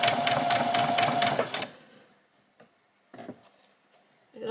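A sewing machine runs a fast, steady burst of stitching along the edge of a doll's dress, then stops, leaving quiet handling clicks and a brief restart at the end.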